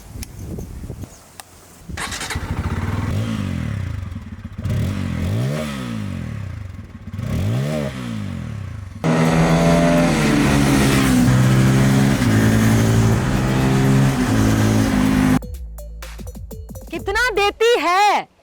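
A Bajaj Pulsar 250 motorcycle engine revs in repeated rising and falling surges, then holds a louder sustained high rev before dropping off, ending with a few sharp blips; close and loud, with no speech.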